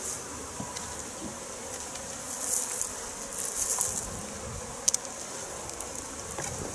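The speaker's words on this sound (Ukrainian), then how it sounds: "Ну, бджоли працюють серйозно" Honey bees swarm around an open beehive, their dense, continuous buzzing close and steady, with individual bees whizzing past now and then; no voices.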